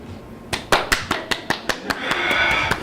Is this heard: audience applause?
yes